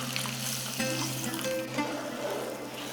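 Water splashes into roasted semolina in a hot pan, setting off a steady loud sizzle with a few sharper hisses and bubbling bursts, close up and continuous with no talking.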